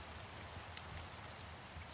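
Steady rain falling in the video game Minecraft, an even, continuous hiss that holds without a break for the whole stretch and has no voices over it.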